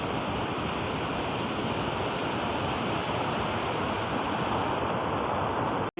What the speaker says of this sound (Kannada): ಇದು ಗೊಡಚಿನಬೆಳಕಿ ಜಲಪಾತ ಗೋಕಾಕ್ ನಗರ, ಗೋಕಾಕ್ ತಾಲೂಕು ಮತ್ತು ಹುಕ್ಕೇರಿ ತಾಲೂಕು ಮಧ್ಯದಲ್ಲಿದೆ